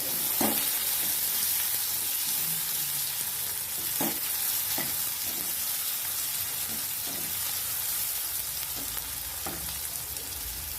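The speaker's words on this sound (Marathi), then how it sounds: "एक मी उभा कांदा कट केलेला बारीक तो ह्याच्यात टाकून द्यायचा आहे तर हे छान परतून घ्यायचे" Finely chopped onion fries in a pan, a constant close sizzle with occasional soft knocks and scrapes as it is stirred, no voices over it.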